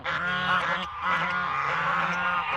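Geese honk repeatedly near a pond, a loud, close, overlapping flock chorus of nasal calls sounding alone without talk.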